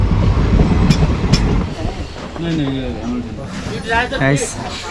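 The 15768 Siliguri Intercity Express, heard as a rumbling train with clatter and a brief squeal, under someone speaking close by.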